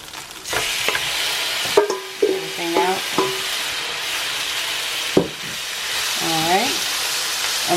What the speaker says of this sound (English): we're going to let this go ahead and sear just like we did the other meat for another 10 minutes